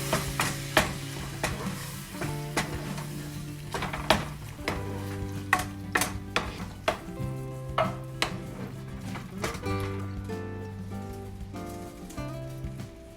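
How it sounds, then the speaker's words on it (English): Canned tomatoes go into a hot pan for beef afritada, sizzling steadily as a utensil scrapes and knocks against the pan in irregular clacks. "So now I would add my tomatoes, canned tomatoes."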